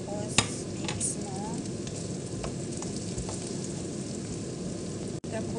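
Spaghetti sauce with carrots is stirred in a hot pan, a steady close sizzle with soft scraping strokes and a sharp clank near the start.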